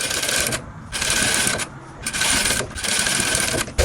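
Sewing machine stitching a dance dress, loud close whirring in three bursts with brief pauses between runs.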